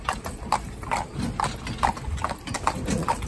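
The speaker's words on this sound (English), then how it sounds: "So you can see this horse now, we've just come round the corner, and it's jig-jogging." A horse in a pair harness jig-jogs along a road, its hooves clip-clopping in a quick, steady, uneven rhythm close by, with no one speaking over it.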